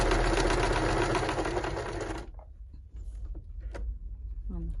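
A sewing machine runs a straight stitch in a fast, steady mechanical rattle for about two seconds, then stops, leaving quiet handling noises and a brief voice.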